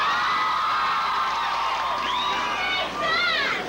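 Crowd cheering at a hockey send-off, a dense wash of many voices yelling and whooping loudly and continuously, with a few higher shouts rising above the roar.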